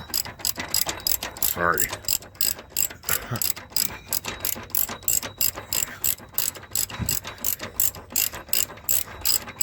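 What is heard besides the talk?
ratchet with steel pipe breaking loose truck running board bolts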